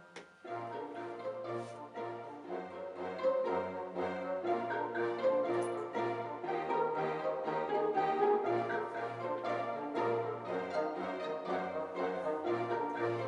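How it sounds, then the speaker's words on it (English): Comic orchestral music featuring bassoon, tuba, oboe and strings, with a steady bouncing rhythm and low pulsing bass notes, playing continuously and fairly loud with no talking. "And I've put some bassoon in there, because I love bassoon in comedy."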